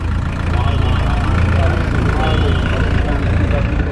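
A vintage Alfa Romeo GT sits idling at an outdoor classic car gathering, its loud, steady low engine rumble continuing without a break while people talk nearby.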